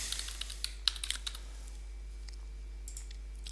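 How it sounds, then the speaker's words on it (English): Quick light keystrokes tap on a computer keyboard in a short burst of clicks, close and fairly quiet over a steady low hum, then slow to a few scattered taps. "I can click and just start typing."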